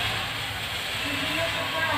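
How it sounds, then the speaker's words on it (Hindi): A kitchen pressure cooker with rice inside hisses steadily, a constant broad steam rush with no breaks, fairly close and unaccompanied by talk. "तो देख सकते हैं अभी कुकर में चावल बैठाए हैं दोपहर का"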